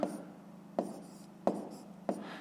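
A pen scratches out a solution in a school maths notebook, four short strokes or taps at a steady rhythm, close and quiet.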